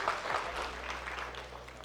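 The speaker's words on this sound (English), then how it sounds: "Let's give yourselves a round of applause." Applause from a crowd gathered for the opening of a Lorcana championship event, a broad wash of clapping filling the short stretch at moderate loudness with no clear pauses.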